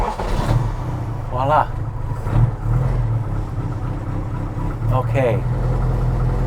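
A Mini Cooper with a 1275cc engine settling into a steady low idle, its rumble running throughout close by while someone speaks briefly over it.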